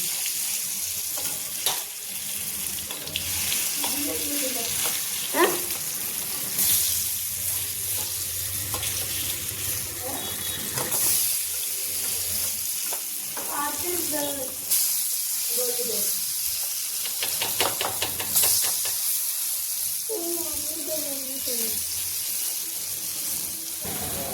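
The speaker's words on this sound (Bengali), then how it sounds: "এই পিঠ আমি লাল করে ভেজে নেব" Steady close sizzling of chana dal bara (lentil fritters) frying in oil continues throughout, with occasional stirring clinks and a voice speaking now and then over it.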